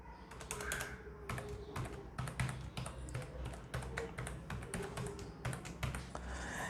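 Someone types a password on a computer keyboard in a quick, uneven run of close, crisp key clicks. The tapping goes on for several seconds over a faint steady room hum, with no one talking.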